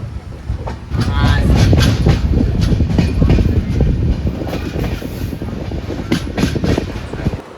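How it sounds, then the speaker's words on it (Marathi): A Konkan Railway train leaving Kankavli station toward Mumbai rumbles along steadily, with close, loud wheel clatter and rhythmic clacks over the rails throughout. "कणकवली रेल्वे स्टेशनवरनं ट्रेन निघालेली आहे मुंबईच्या दिशेने"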